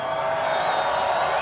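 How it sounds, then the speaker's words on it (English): A large crowd roars and cheers steadily in a STIHL Timbersports World Trophy arena, a dense, sustained wash of voices with no breaks. "I mean, look at this crowd."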